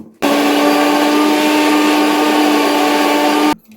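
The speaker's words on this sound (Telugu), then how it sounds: "ఇప్పుడు దీన్ని చక్కగా మిక్సీ పట్టుకోండి" A mixer grinder blends a curd drink with salt and cumin, a loud, steady motor whir with a constant pitch that starts abruptly and runs about three seconds before cutting off.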